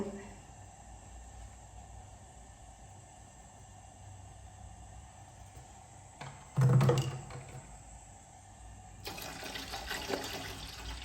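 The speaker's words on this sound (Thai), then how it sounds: "แล้วก็น้ำสะอาดใส่เลย ม้อใหญ่ต้มเลยค่ะกลัวมันจะล้น" Clean water is poured into a large cooking pot set to boil, with a short loud splash midway and then a steady rushing pour, no voices.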